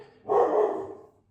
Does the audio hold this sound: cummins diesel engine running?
no